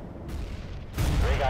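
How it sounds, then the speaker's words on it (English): A grenade blast in the first-person shooter CS:GO bursts loud and broad near the end, following a short stretch of quieter game ambience and gunfire-like rumble. "Grenade!"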